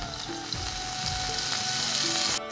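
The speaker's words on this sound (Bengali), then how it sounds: "এখন ভেজে নিব চাপা।" Chapa fish fries in mustard oil with a steady, close sizzle that holds for a couple of seconds before a brief clatter at the end.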